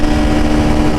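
A quick-shifter-equipped motorcycle held at full throttle during a drag race, its engine a loud, dense, continuous droning roar with a steady pitch, close by and alone.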